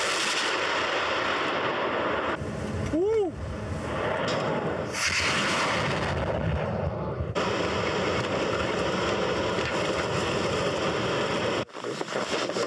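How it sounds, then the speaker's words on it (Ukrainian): A rapid volley from a Grad rocket launcher roars as a continuous, loud rumbling blast that sustains for several seconds, then cuts off abruptly near the end. "Тільки що відпрацювали з града."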